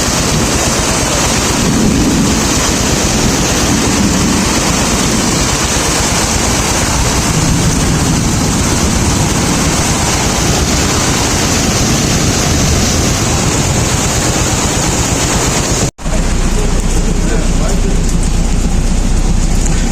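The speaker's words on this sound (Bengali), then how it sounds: "প্রচুর বৃষ্টি হচ্ছে শরতের সুন্দরবনে" Heavy rain and gusting wind on the Katka river in the Sundarbans during a storm, a loud, dense, unbroken roar of rainfall and wind buffeting throughout, with a brief cut near the end.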